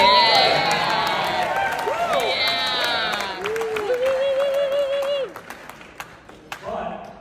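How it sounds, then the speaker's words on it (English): Wedding guests break into loud applause and cheering right after a call to clap for a groom's friend, a crowd roar of claps and whoops with voices shouting over it, fading out toward the end. "A round of applause for little Rick."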